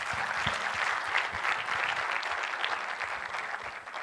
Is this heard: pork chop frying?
no